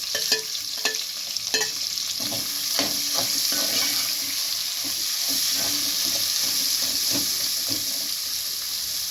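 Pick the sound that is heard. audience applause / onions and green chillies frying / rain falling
onions and green chillies frying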